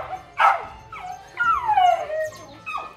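A worked-up dog yips and whimpers close by, a few short high cries followed by a longer drawn-out whine, loud and alone.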